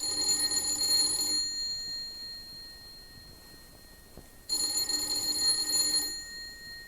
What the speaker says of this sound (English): Let's begin this tale with the ringing of a doorbell.